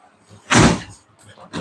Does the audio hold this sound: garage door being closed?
yes